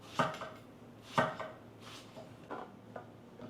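A knife slices through zucchini and eggplant on a cutting board, cutting rounds about half a centimetre thick, with four or five distinct crisp chops spaced roughly a second apart and soft board knocks in between.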